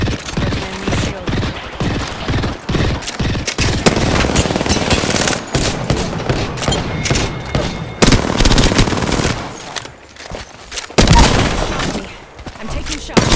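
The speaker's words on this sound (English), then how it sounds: "You're being shot at." Heavy automatic gunfire in a battle-royale shooter game: dense, rapid bursts of shots and booms fill the whole stretch, with brief lulls between volleys and a voice speaking faintly underneath.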